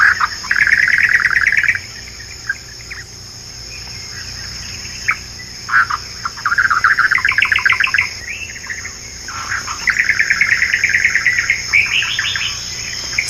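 Small birds chirp in quick trilling bursts from tall papyrus in South Africa, with short pauses between phrases and a steady high insect drone underneath.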